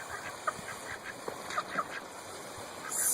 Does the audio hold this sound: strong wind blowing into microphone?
no